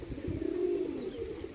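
Domestic pigeons, including Madras and Giribaz breeds, coo in a single low, drawn-out murmur close by, fairly faint, with no talking over it.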